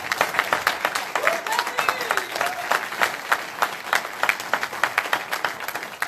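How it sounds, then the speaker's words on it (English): Audience applause at a student-led gun reform forum, an energetic patter of many hands with distinct individual claps, cheers and voices mixed throughout. "she deserves a big round of applause right now"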